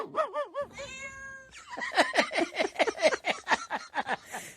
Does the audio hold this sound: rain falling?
no